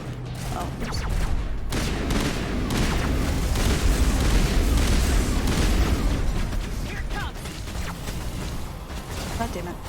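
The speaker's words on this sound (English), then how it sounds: "Honey, you're firing into a wall." Sustained gunfire and booming blasts from the Mass Effect video game, dense and loud throughout, with a voice talking over the shooting.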